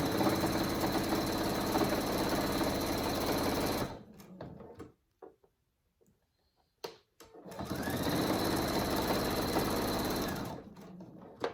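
A sewing machine stitches webbing on a hanging hammock for animal cages, its fast, even mechanical rattle running in two close bursts separated by a few seconds of quiet handling.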